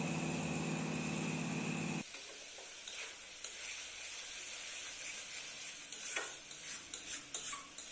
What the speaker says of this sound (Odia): ଗୋଟେ ଚାମଚ ହଳଦୀ ଗୁଣ୍ଡ, ଗୋଟେ ଚାମଚ ଲଙ୍କା ଗୁଣ୍ଡ ଦେଇ ନାଡ଼ିଦେବା